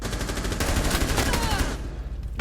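Rapid gunfire from the tactical shooter Rainbow Six Siege crackles in dense bursts, loud and close, filling most of the stretch before dropping away near the end.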